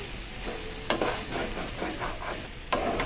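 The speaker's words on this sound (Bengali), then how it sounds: "একটুখানি এটাকে নাড়াচাড়া করে নেব শুকনো খোলার মধ্যে রেখে" Pieces of raw mango stirred in a dry pan over a gas flame, soft scraping and faint crackle in repeated strokes, with a couple of sharper knocks against the pan.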